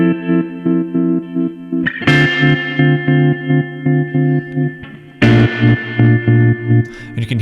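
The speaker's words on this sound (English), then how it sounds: "And you can hear the reverb pop on that one." Guitar chords played through a tremolo amp effect in Ableton Live pulse in a steady rhythmic chop, with a reverb tail swelling around two fresh strums; loud and close, no voice.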